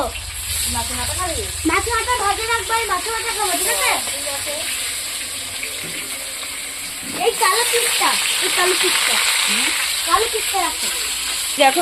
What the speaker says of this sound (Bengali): মাছ ভাজা হচ্ছে দেখতে পাচ্ছ তোমরা